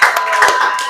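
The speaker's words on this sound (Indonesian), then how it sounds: "Tepuk tangan untuk kelompok." A classroom group bursts into applause, a dense patter of many hands clapping together for about a second, close and steady with a few voices mixed in.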